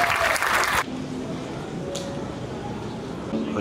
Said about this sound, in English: Give our mothers and mothers a round of applause.